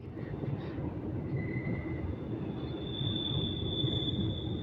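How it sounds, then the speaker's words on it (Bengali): A metro train passes with a continuous low rumble of wheels on rail and a thin, high metallic squeal that rises toward the end, heard without any speech. "মেট্রো যাচ্ছে জন্য"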